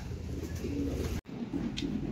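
Young racing pigeons coo softly in a loft, low throaty murmurs repeating over a steady background hum, moderately close and fairly quiet.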